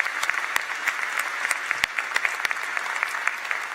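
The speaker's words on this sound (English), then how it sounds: "How about a great big round of thanks and applause for our support staff?" Auditorium audience applause at a college convocation ceremony, a steady, moderately distant clapping from a large crowd with crisp individual claps standing out throughout.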